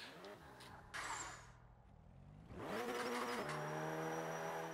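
A rally car engine in the racing game Forza 5 revs and drops away during a handbrake turn, then climbs back into a loud, sustained rising drone with a brief scrub of tyre noise early on.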